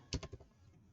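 A command typed on a computer keyboard: four quick, faint keystroke clicks in a short burst, then quiet.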